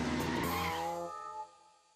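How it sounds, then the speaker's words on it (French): A cartoon motorcycle races along a track, its engine whining loudly with a skidding, squealing edge before the sound fades away over the last half second. "Il semblerait qu'une moto soit sur la piste."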